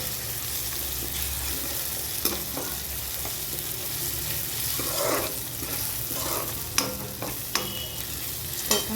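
Onion with ginger-garlic paste sizzles steadily in a hot pan for spicy okra, with scattered scraping clicks of a spoon stirring through it, close and continuous.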